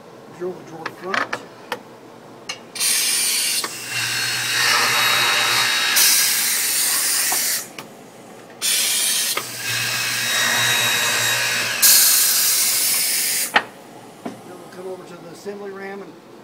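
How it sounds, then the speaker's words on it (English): A Grass Zargen drawer machine drills a drawer front in two sustained loud whirring stretches, with knocks and mechanical clatter before, between and after. "Now we're going to drill the drawer front."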